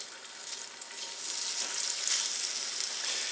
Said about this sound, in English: I'm going to add the chicken thighs. Yep, we are sizzling.